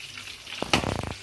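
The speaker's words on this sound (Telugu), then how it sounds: "ఇది ఇంకొక 2 నిమిషాలు ఫ్రై చేసేసి" Chicken pieces frying golden in hot oil in a village kitchen, a brief burst of sizzling and bubbling crackle that swells suddenly after a quiet moment.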